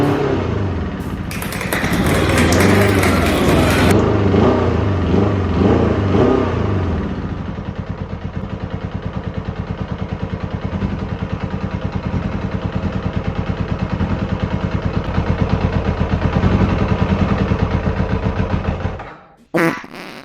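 A Kawasaki Ninja ZX7R sport bike engine fires up and idles roughly after starting, with a loud burst of revving early on, then an uneven, pulsing idle that struggles to hold steady before cutting out near the end.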